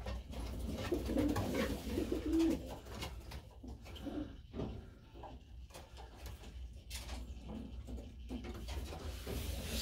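Pigeons being weaned in a loft give several soft, low coos near the start, then fainter ones, over a quiet background broken by occasional clunks and scrapes.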